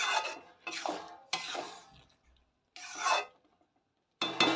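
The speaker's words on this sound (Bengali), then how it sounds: "এবার ভালো করে কষিয়ে নেব" A spoon scrapes and stirs boiled sona moong dal with ridge gourd and potato in a pan, making several separate rasping strokes with short silent gaps between, close and alone.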